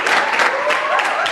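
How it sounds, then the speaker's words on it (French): A studio audience on a French-language talk show claps together in a brief, dense burst of applause, loud and unbroken. "j'aimerais qu'on applaudisse pour Kali"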